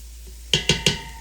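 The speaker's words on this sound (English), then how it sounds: "Go ahead and give that a stir. Get everything incorporated." A pan of sizzling onions with flour being stirred in: three quick, close, evenly spaced scrapes of a utensil against the pan over a low, steady background, with no talking.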